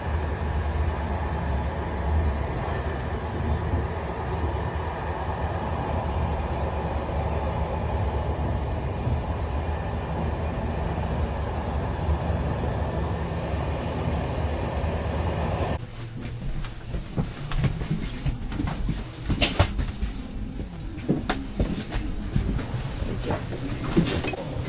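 A train running through Sweden gives a steady, loud low rumble for about sixteen seconds, then the sound shifts to a rougher, more uneven rattle with scattered knocks as the carriage moves on.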